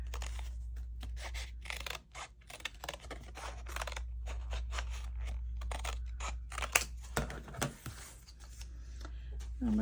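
Scissors cut paper for a flamingo-themed journal while belly bands and pockets are being made. Quiet, close snips and paper rustles come in quick irregular clusters, with short pauses between them.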